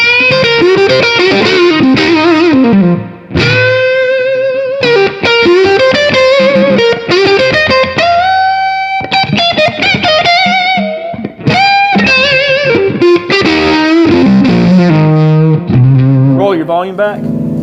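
An electric guitar played through a Komet K.O.D.A. overdrive amplifier rings out in loud, close lead phrases with bends and sustained notes, broken by short gaps.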